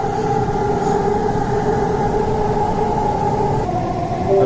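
A Namma Metro train in Bangalore runs steadily after pulling away, heard from inside as a loud continuous rumble with a sustained whining tone, no talk.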